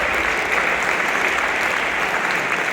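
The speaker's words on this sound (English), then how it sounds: "One more round of applause for Ryan." An audience at a high school jazz band senior recognition concert applauds with dense, continuous clapping that fills the room throughout.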